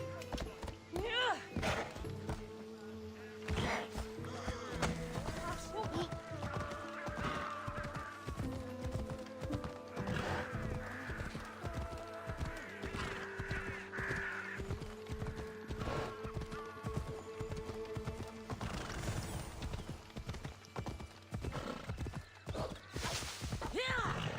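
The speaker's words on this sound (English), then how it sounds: "Come, my horse. Let's go." A horse gallops in Assassin's Creed Odyssey, steady hoofbeats clip-clopping with occasional neighs and whinnies over continuous game music and ambience, while a player's voice speaks at times.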